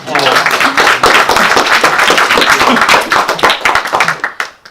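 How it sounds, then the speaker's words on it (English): A small group claps in a room during a goal-setting talk, close, loud and lively applause lasting about four seconds before tapering off quickly. "applause."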